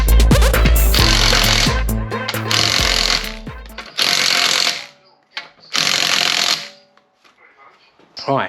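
A power tool tightening car wheel bolts, with loud bursts of rattling impact hammering, the first long and the rest short and separated by pauses, close by.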